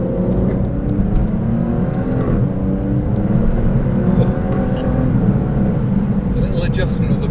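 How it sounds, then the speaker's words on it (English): Wet-road drive in a 712hp Aston Martin supercar: a steady, droning engine note with light throttle and tyre hiss runs continuously at moderate loudness, with no clear revving burst. "just from a little bit of throttle you can really tell how this car goes"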